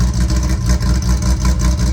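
A highly restored Nissan S30 240Z sports car with a modern ignition and fuel injection system runs at a smooth, steady idle, a close, even low rumble with regular pulsing and no talk.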